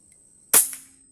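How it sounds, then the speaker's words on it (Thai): A single sharp crack as an air gun, apparently spring-powered, fires a shot at a wooden ball, loud and close with a brief decaying ring, otherwise quiet. "ยิงบอลไม้ให้เบิ่งเนาะ"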